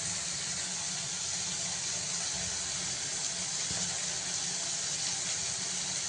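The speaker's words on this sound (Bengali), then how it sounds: "ঝোলটা ভালো ফুটে গেছে" Gravy for a pabda fish curry with mustard and poppy seed bubbles on the stove in a pan, a continuous, even, close hiss and simmer with no voices over it.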